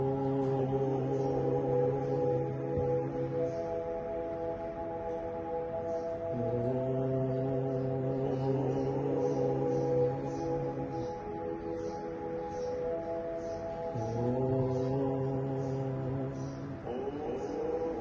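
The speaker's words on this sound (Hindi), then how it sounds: "ओम की ध्वनि से सारा वातावरण शुद्ध हो जाता है" A sustained, droning chant of Om with deep harmonic tones, repeated in long held breaths that restart a few times, steady and fairly close.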